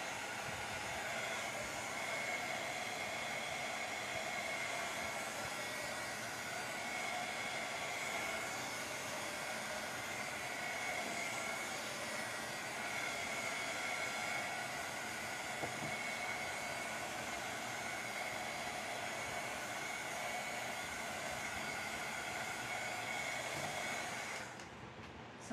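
Hair dryer blowing steadily on a freshly painted craft plaque, a continuous loud whooshing airflow with a constant motor whine for the whole stretch, switching off at the very end.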